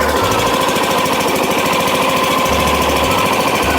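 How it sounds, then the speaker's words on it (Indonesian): A 2021 Yamaha NMAX scooter engine starts and runs close by with a rapid, steady putter, idling with a rough knocking pulse and occasional low thumps, loud and without speech. "Nah ini mesin hidup pertama seperti ini."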